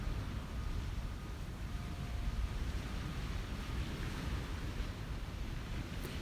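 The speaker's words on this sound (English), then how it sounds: "let's just enjoy the beautiful sounds of the water" Waves wash steadily onto a beach in a continuous broadband rush, with wind buffeting the microphone throughout and no voices.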